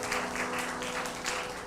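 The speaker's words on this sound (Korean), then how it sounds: "우리 영광의 주님께 큰 박수 올려드립시다" Congregation clapping after a hymn in a university chapel service, a brief, moderately loud burst of many hands with soft music lingering beneath.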